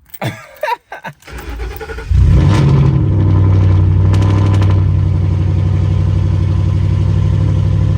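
A car with 103,000 miles on it starts after some brief handling noises, then settles into a loud, steady idle that runs on evenly to the end.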